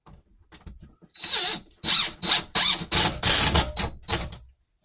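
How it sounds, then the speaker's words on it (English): A power drill drives a screw into a wall in a series of short, loud whirring bursts separated by brief pauses, close and alone. "we're going to take this screw and drive it in here"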